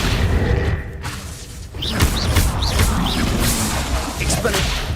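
Accio summoning spell in Hogwarts Legacy, a whooshing, whip-like magical pull with booming impacts amid busy combat noise, a brief dip then a renewed surge.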